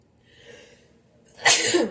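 A soft intake of breath builds into a single sharp, loud sneeze near the end, close to the listener, brought on by pepper while cooking.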